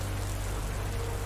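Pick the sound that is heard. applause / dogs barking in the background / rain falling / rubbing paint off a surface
rain falling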